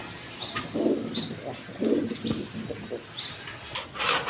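A pair of king pigeons in a cage coo in low, soft bursts, a few close calls spaced apart with faint chirps in between.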